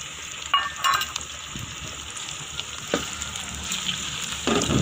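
Chopped tomatoes and green chilies fry in a pan for chicken cauliflower curry, a soft steady sizzle with a few sharper scrapes and knocks of a stirring spoon, close but fairly quiet, no voices.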